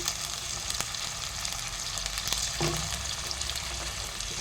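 Tomato pieces and curry leaves sizzle in a pan of hot oil for a hotel-style potato kurma, a soft, even frying hiss with a few faint clicks and stirs, no talking.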